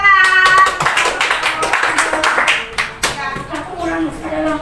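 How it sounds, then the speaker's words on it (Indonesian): Children clapping in an Indonesian classroom lesson on the planets, irregular bursts of hand claps of varying strength mixed with lively children's voices and chatter throughout. "Ya, tepuk tangan."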